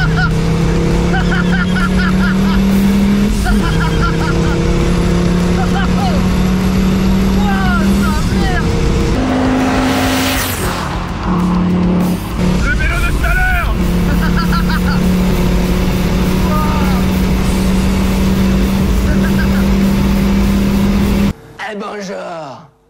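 Mercedes OM605 diesel car engine running after its break-in, a loud close steady drone with shifts in pitch as it revs, heard under occasional talk before cutting out near the end.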